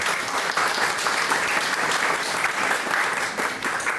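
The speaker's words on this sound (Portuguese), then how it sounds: "Uma salva de palmas, por gentileza." Audience applause at a public hearing on the Cassandoca and Tatu stream watershed plan, a steady, dense wash of many hands clapping close by, sustained without pause for about four seconds with no talking.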